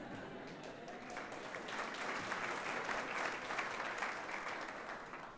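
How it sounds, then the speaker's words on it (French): Audience in a French-language church service applauding steadily, a dense even wash of many hands clapping that swells slightly midway and holds, with no talk over it. "c'est aux hommes d'applaudir les femmes."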